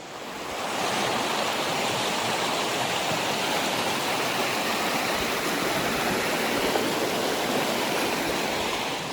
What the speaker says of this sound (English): Here's some nice small rapids.